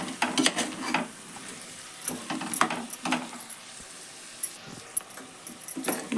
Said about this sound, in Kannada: ಎಲ್ಲ ಫ್ರೈ ಮಾಡೋಣ್ರಿ ಈಗ ಎಣ್ಣೆಯೊಳಗೆ ಫ್ರೈ ಆಗಲಿ